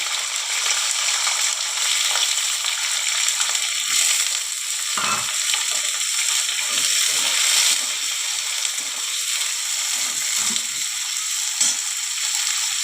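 Potatoes frying in hot oil tempered with nigella seeds, whole cumin and four or five green chillies: a steady, close, crackling sizzle with occasional stirring scrapes and no voices.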